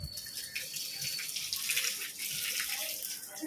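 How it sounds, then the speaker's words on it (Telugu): Tap water running as a child washes hands at home, a steady splashing flow close by with faint voices in the background. "హ్యాండ్ వాష్ చేయి."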